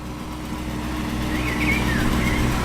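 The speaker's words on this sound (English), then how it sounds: "This one also sounds like it has a V8 within it." A V8 sports car styled like a De Tomaso Pantera rumbles at an evening car meet, a steady low engine drone that swells slightly louder toward the end, with faint background noise from the crowd.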